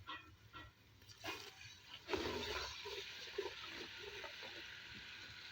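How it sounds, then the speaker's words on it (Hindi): Water poured into a pan of frying red masala, a brief loud splash and sizzle that settles into a steady faint hiss, quiet and close. "हल्का सा पानी शामिल करेंगे।"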